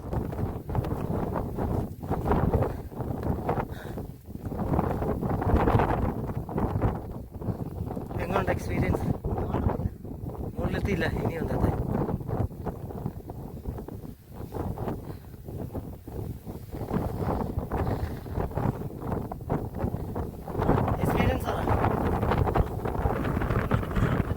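Strong wind buffets the microphone on a hilltop viewpoint at Meesapulimala, Kollam, in continuous loud rumbling gusts, roaring steadily throughout with no letup.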